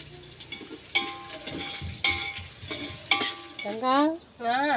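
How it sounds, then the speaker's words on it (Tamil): Sambar being tempered in a pan over a wood-fired stove, with stirring scrapes and clinks against the pan, a sizzle underneath, and a few sharp metallic taps near the end, all close by. "நான் இங்கே வந்து வரகடுப்பில் வந்து சாம்பார் தாளிச்சிட்டு இருக்கேன்"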